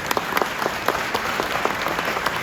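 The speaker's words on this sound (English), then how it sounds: "Yes, round of applause for Tom Tillison." Audience applause for Tom Tillison, chairman of the Route 66 Commission, at an event with the Oklahoma lieutenant governor: dense, steady clapping from a room of people, fairly loud and sustained throughout.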